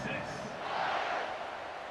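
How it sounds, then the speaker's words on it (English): A stadium crowd in EA Sports College Football 26 buzzes after a touchdown, a steady broad roar of cheering voices holding at moderate level as the kickoff approaches. "this crowd is buzzing after that last score"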